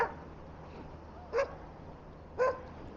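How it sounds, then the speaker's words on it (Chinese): A dog running up on a Vancouver seaside ride gives two short, sharp barks about a second apart, close and clear over quiet background noise. "有狗狗跑我这来干嘛"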